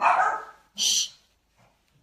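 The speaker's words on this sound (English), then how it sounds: "If you hear my dog start barking," An indoor dog gives a short bark, and a person's brief hushing sound follows; the rest is near silence.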